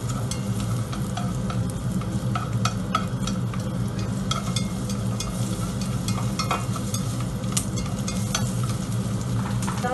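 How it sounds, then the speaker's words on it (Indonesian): Ginger and garlic stir-frying in a hot pan, a steady close sizzle with scraping stirs running the full ten seconds, no talking, while aromatics cook for a fiery Szechuan sliced beef dish. "jahe sama itu bawang putih. Kita tumis"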